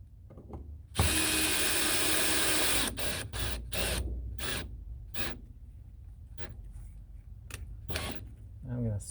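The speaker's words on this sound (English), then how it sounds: "I've always found these screws to be so long that I like having a driver" A power screwdriver drives long screws into an electrical outlet box, one sustained whirring run near the start followed by several short bursts, with some talk in between.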